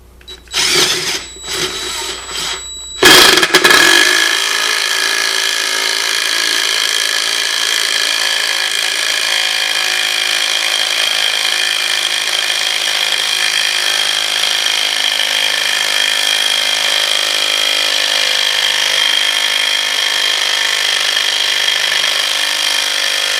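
A DeWalt DCF885 impact driver spins up loud and close after a few short bursts, then holds a steady, unbroken whine with hammering rattle for about twenty seconds, with no voices over it.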